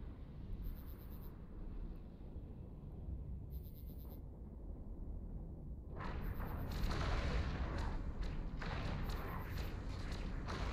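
Weapons firing from spaceships in Eve Online, low booming thuds and rumbling volleys that build and grow louder and denser after the first few seconds, with periodic high electronic beeps above them.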